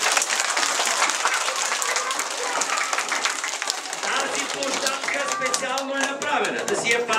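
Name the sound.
audience applause at playground opening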